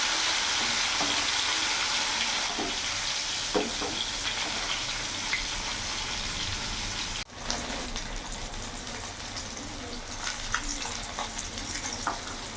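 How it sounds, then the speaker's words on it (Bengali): Pieces of rohu fish fry in hot oil in a pan, giving a steady close sizzle with occasional sharper crackles and spatters, briefly interrupted midway as the pieces are turned, then sizzling on. "আমি এবার মাছগুলো উল্টিয়ে দিচ্ছি।"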